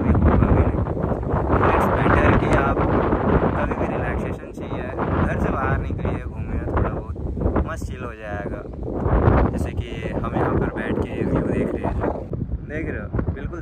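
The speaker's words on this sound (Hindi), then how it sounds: "इतना ज़्यादा हवा चल रहा है" Strong wind at Koheda Gutta, a hilltop spot near Hyderabad, buffets the microphone in a continuous loud roar with gusty surges, with faint voices muffled underneath.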